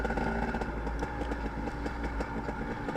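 An off-road motorcycle on a forest OHV trail chugs at slow speed, a loud, close, steady low-revving engine with a rough, grunting diesel-like beat and some clatter.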